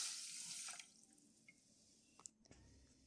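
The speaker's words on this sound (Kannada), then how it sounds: "ಹಾಗೆ ಇದಕ್ಕೆ 1 ಗ್ಲಾಸ್ನಷ್ಟು ನೀರು ಹಾಕ್ಕೊಳ್ತೇನೆ." A glass of water pours onto sugar in a pan on a gas stove for a rasmalai syrup, a brief close splashing gush that fades into a few faint drips and clinks.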